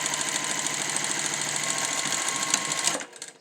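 A sewing machine stitches elastic onto a fabric mask in one continuous, fast, buzzing run, close and steady, then stops abruptly near the end with a few small clicks.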